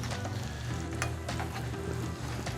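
A Dijon mustard mixture sautés in a pan while being stirred, making a dense, even sizzle with occasional brief crackles, close and steady with no voices.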